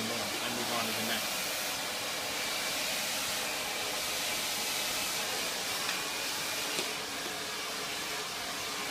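A hair dryer blows steadily while drying a section of hair around a brush, giving a continuous broad airy whoosh that stays level throughout, with a faint voice underneath.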